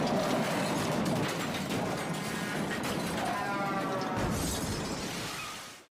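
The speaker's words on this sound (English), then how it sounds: "The sound of metal twisting, glass shattering, and the tires screeching filled the air." A car crashes and tips over, with twisting metal and shattering glass forming a dense, loud grinding and rattling clatter that runs for about six seconds before cutting off abruptly.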